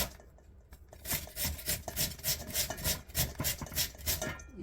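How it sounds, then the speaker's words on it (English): A single potato being grated by hand produces a rapid run of rough, scraping rasps in a kitchen, each stroke repeating in a fast, fairly even rhythm, close and moderately loud, with no talking. "gonna grate my potato"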